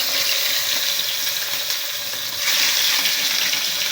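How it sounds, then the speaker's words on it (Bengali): Fish roe coated in turmeric and salt sizzles in hot oil, a dense, steady crackle and hiss that swells slightly toward the end, close and with no voices. "মাছের ডিমগুলো ভালোভাবে ভেজে নেব"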